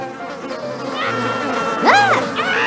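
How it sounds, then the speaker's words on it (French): Flies swarming in a cartoon retelling of the biblical plague of flies in Egypt, a buzzing, whining drone rising and swooping over a steady background, with no talk. "La plaie des mouches."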